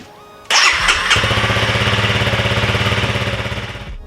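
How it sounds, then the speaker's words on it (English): A Honda CRF300L motorcycle engine catches abruptly and settles into a close, loud, rhythmic idle that pulses steadily, then slowly fades toward the end. "I'm gonna put my fill cap back on and start the bike up, get the oil circulating"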